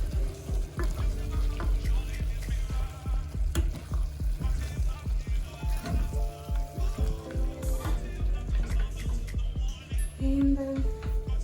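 Tomatoes simmer and sizzle in a pot for a simple vegetable rice dish, giving a steady close bubbling and frying crackle with scattered clicks and light stirring knocks throughout.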